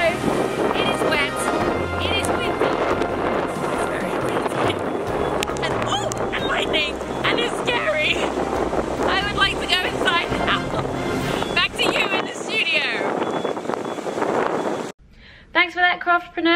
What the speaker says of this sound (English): reporting live from the middle of Typhoon Hato. It is wet.